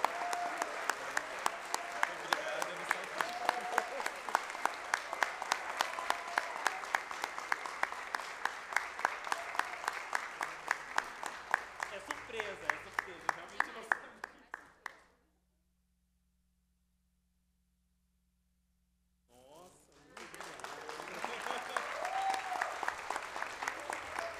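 Prolonged applause from an audience at a solemn legislative session marking a state day against Covid-19 in the favelas, steady clapping for about fifteen seconds, a sudden silence, then clapping resuming.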